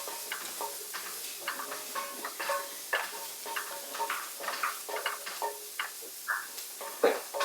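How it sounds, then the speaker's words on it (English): Finely chopped carrot greens, stems and leaves, sautéing in sesame or olive oil, a soft steady sizzle broken by repeated clicks and scrapes of stirring throughout, fairly close, with light talk in the background. "I'm just going to saute these until they're kind of little bit more cooked"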